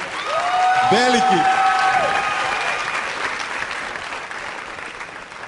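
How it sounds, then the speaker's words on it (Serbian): A studio audience at a TV entertainment show claps loudly and steadily, with a voice calling out over the applause near the start before the clapping gradually eases. "Jedan aplauz za lepšu polovinu."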